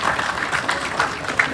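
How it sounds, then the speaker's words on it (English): Audience applause for the MC at a UK investment panel event, a short, steady patter of clapping at moderate level with a few sharper peaks. "give him a round of applause, he's doing a brilliant job"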